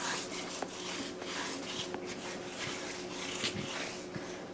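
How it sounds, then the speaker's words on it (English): Hands rubbing a coffee spice rub into baby back ribs, a soft, steady, close-up rasping and smearing texture with faint occasional taps, no talk. "Rub it in."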